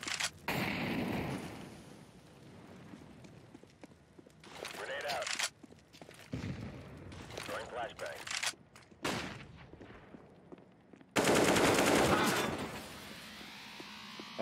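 AK rifle gunfire in the Counter-Strike video game, with several loud bursts of shots and rapid fire separated by quieter stretches of footsteps and game noise, with a person talking over it.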